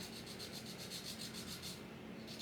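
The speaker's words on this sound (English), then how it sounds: "I think I gotta actually sand up a little bit in the front right here" Sanding a seam on the plastic hull of a 1/350 Tamiya Fletcher-class destroyer model, a soft, steady rubbing rasp that pulses in quick repeated strokes, faint and close with no talking.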